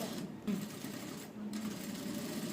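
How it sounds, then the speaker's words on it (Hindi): A sewing machine runs steadily while stitching a princess-cut padded blouse, a continuous close mechanical whir with brief pauses, and a voice talks over it. "सेम पहले जैसी सिलाई लगाएंगे"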